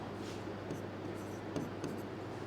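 Pen strokes scratch across paper while cash book entries are written, a faint continuous scraping with a few small taps over a steady background hum, no voices.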